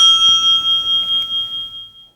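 A debate timer bell gives a single bright ring that sustains and slowly fades over about two seconds, loud and close with no voices.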